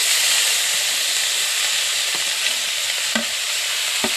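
Fiddlehead fern greens frying in smoking-hot oil in a pan give a loud, continuous close sizzle and hiss, with a few light clinks and stirring scrapes near the end, no talking.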